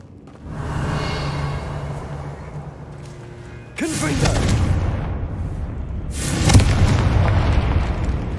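Confringo spell explosions in the video game Hogwarts Legacy: two heavy, loud booming blasts, each followed by a long rumbling roar, over a constant low background din.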